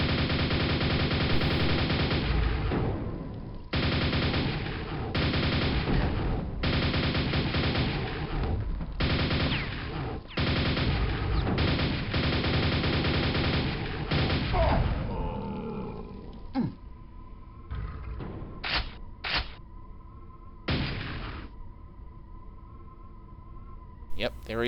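Rapid bursts of gunfire in the Quake engine Quakespasm, shooting at an enemy on custom maps, loud and dense for about fifteen seconds with short gaps, then sparser, separated shots and a few tonal game effects.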